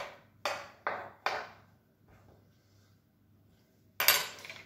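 Tomatoes drop into a dish already holding shallots and garlic: three quick clattering knocks, a quiet pause, then one more sharp clatter.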